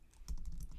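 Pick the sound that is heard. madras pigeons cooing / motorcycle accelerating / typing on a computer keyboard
typing on a computer keyboard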